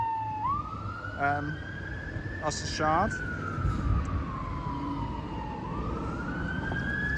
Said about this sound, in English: there's actually a fire engine there just going past me